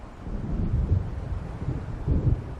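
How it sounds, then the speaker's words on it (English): Deep rolling thunder from an approaching storm in Alan Wake Remastered rumbles low and steady, with several heavier swells over a constant background of wind and distant waves. "It seems there's a storm coming."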